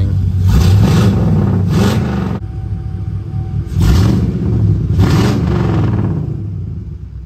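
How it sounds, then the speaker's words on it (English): A 1967 GMC C10 Super Custom pickup fitted with glass pack mufflers gives a loud, burbly exhaust rumble. The sound comes in several surging pulses with quieter gaps between them. "put some good old-fashioned glass packs on it. So it sounds good now when you're just idling."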